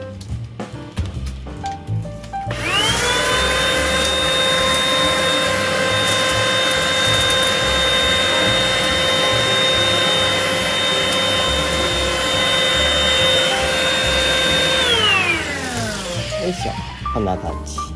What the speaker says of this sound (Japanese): これも掃除機で